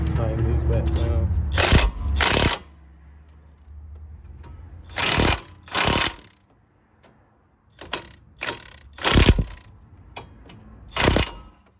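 A ratchet tightens bolts back down on a 2020 vehicle, with several bursts of quick clicking, each lasting about half a second, separated by pauses, close and fairly loud.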